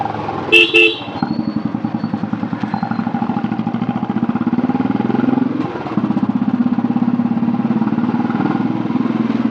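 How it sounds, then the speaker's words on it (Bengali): A motorcycle rides through traffic on its way to a service centre: an opening burst of sharp car horn toots, then a steady, close engine drone throughout, with another brief horn early on. "আর আজকে হচ্ছে বাইকটাকে নিয়ে যাচ্ছি"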